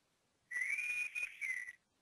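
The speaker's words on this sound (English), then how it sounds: "I just got a little whistle from Zopum telling me that I have an outstanding chat" A short whistle-style chat alert from the Zopum website chat system, a bright tone with a rising-then-wavering pitch lasting over a second, with a brief dip in the middle, clear and alone against a quiet background.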